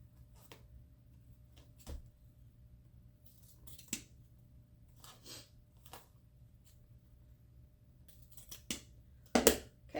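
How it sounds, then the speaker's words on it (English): Sharp scissors snip ribbon tails at an angle to finish a handmade bow, several crisp, separate cuts spread out over quiet, close and fairly faint. "I'm just going to cut an angle just to finish it off"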